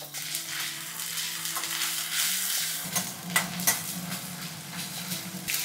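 Ginger garlic paste frying in a pan for chicken buttermilk curry, a steady crackling sizzle with stirring and occasional soft clinks of a utensil against the pan.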